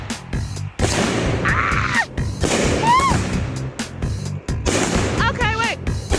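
A Born to Blast 2 firework cake fires its shots outdoors, a series of loud booming bursts with whistling, crackling tails, spaced about a second apart, with people talking between the blasts.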